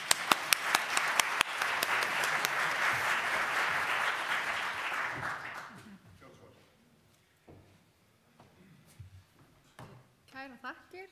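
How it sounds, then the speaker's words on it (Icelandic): An audience at a panel discussion breaks into loud, sustained applause with a few sharp leading claps, fading out after about six seconds into quiet rustling and then people talking. "Við klöppum fyrir þessu."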